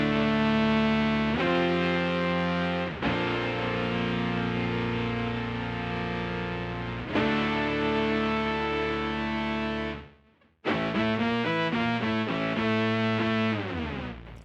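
A Boss SY-1 guitar synth pedal on its saw lead patch plays loud, bright, buzzy sustained notes with a distorted edge, held phrases broken by a short gap before faster changing notes, with no talking.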